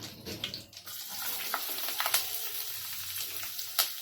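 Chopped onion frying in a pan for spicy Kolhapuri misal, a steady close sizzle with faint crackles and light clatter, no talking.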